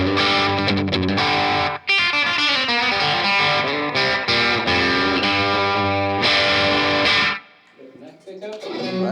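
Fender electric guitar through distortion on the bridge pickup, played in a blues manner: loud, dense, gritty chords and riffs for several seconds, then a sudden drop to quieter playing at the end.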